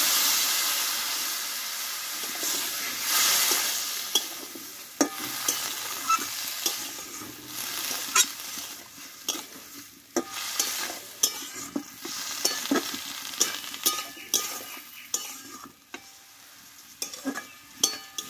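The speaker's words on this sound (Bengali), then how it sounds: "আর এইখানে আমি একটু অল্প গরম জল দিয়ে দেবো।" Hot water poured into small potatoes frying in a pan, then stirred, giving a loud steady sizzle and hiss that fades down into softer bubbling, broken by sharp scrapes and clinks from the spoon against the pan.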